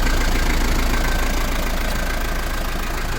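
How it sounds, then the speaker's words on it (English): Car engine idling with a MagnaFlow exhaust exiting ahead of the passenger rear tire, a loud steady rumble close by that holds an even tone throughout with no pauses. "I've got the exhaust mounted out in front of the passenger rear tire, the MagnaFlow. That's why it sounds fun."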